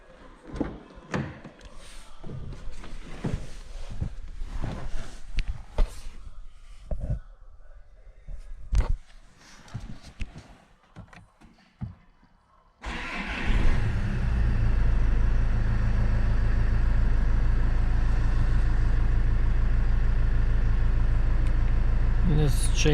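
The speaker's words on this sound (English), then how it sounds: "Now I can start the engine." A Range Rover Evoque engine cranks and catches after an oil change, then settles into a steady, loud idle for the rest of the clip, following some handling noises and a person talking.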